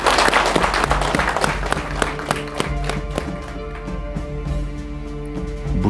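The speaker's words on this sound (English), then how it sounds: "Patrick Cheriot, I think we can give him a round of applause." Loud, steady applause and clapping from an audition audience in Kitale, dense and sustained throughout with scattered individual claps standing out.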